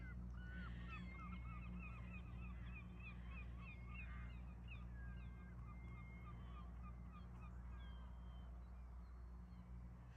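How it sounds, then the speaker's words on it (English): Distant birds call repeatedly in short honking cries over a low steady rumble, faint and far off. "These seagulls in the distance are really noisy."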